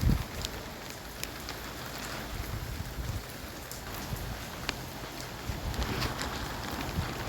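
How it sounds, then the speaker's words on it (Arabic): Steady rain falls outdoors as a continuous wash of patter and scattered drops, with occasional louder splashes, moderately loud with no voices. "لقيت الدنيا بتشتي رحت اتفرج بسرعة على الشتا، بحب الدنيا قوي هي بتشتي"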